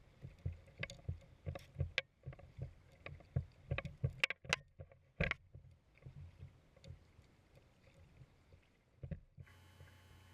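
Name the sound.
paddling a Hurricane Skimmer 140 kayak on Lake Stillhouse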